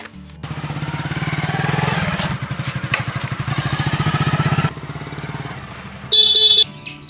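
A motorcycle engine idles and revs with a rapid, throbbing putter, fairly close, then cuts out before a short, loud horn blast near the end.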